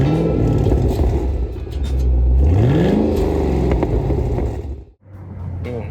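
A Chevrolet Camaro ZL1 engine revs up loudly nearby with a strong low rumble, climbs in pitch as it pulls away, then briefly drops off before settling back into a steady idle.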